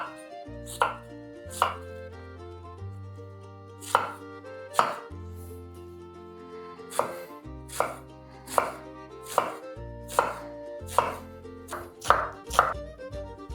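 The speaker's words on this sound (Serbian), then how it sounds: "Crni luk seckamo sitno." Onions chopped finely with a knife on a cutting board, a series of crisp, close, evenly spaced thuds with short scraping rests between them, heard alone without talk.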